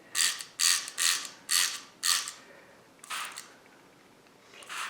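Quick hissy spray bursts of water, five in a steady rhythm, then a pause and two more squirts from a nearby spray bottle wetting a watercolor painting.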